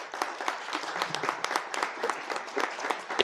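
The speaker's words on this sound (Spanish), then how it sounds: "Un aplauso, por favor." An audience at a book fair event claps steadily, with individual claps distinct in a moderately loud, lively applause.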